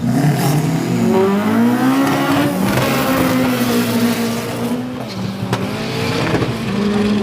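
A turbocharged car with an SR20 engine accelerating at a drag race, loud rising and falling engine pitch as it revs through gears, with brief tire squeal, close and dominant with no talk.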